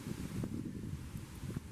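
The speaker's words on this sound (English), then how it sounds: "What a windy afternoon it is." Steady low wind rumbles and buffets across the microphone at the St Lucia Estuary in the afternoon, a continuous blustery roar with faint rustling and no voices.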